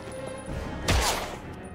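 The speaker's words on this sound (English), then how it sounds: "I'll shoot the guys in the stair" Gunfire in the video game Heavy Rain: a single sharp burst of shots crackling loudly near the middle, against a quiet murmuring background.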